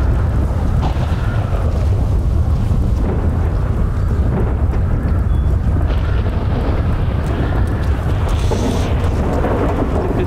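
Storm wind in a zombie survival video game, a loud continuous roaring gust that fills the whole stretch steadily with no voices over it.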